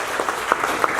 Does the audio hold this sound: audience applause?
yes